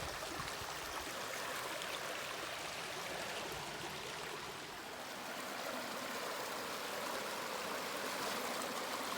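A small side stream in the Sipsey Wilderness pours down a rocky chute into Eagle Creek in winter, giving a steady, close rush of flowing water with no break in the wash.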